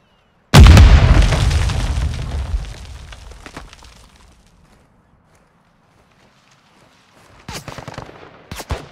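A frag grenade blast in Call of Duty Modern Warfare 2: one loud, close boom at the start whose roar slowly fades over several seconds, then near-silence before a short burst of further rumbling gunfire-like noise near the end.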